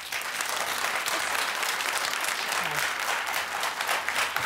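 A studio audience at a TV talk show claps steadily and loudly, a dense wash of applause that holds throughout.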